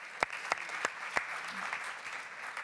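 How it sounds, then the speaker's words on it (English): Conference audience applause at an agricultural research plenary, a soft, fairly distant wash of clapping with a few louder nearby claps standing out at the start. "we don't stop them with the applause"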